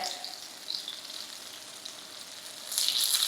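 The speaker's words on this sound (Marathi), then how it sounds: "आता मी तुम्हाला तव्यावरती फ्राय करून दाखवले" Paneer tikka pieces fry on a hot tawa with a steady, fairly quiet sizzle, brightening into a louder burst of crackling near the end with no voices present.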